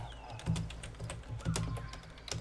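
Rapid clicking of a computer keyboard being typed on in bursts, close and fairly loud, during a session of the dinosaur survival game The Isle.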